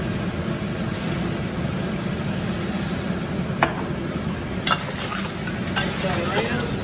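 Chilli crabs sizzling hard in a hot pan with soy and chilli sauce while being stirred, a loud steady hiss joined by a few clanks of utensil on metal near the end.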